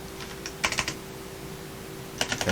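Keys clack on a vintage IBM KB6323 computer keyboard in two short quick bursts of crisp clicks separated by a pause, close and fairly quiet over a faint steady hum.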